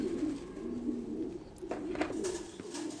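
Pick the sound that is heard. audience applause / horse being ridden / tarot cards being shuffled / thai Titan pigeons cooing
thai Titan pigeons cooing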